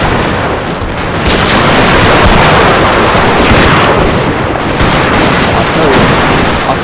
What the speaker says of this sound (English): Artillery is pounding away.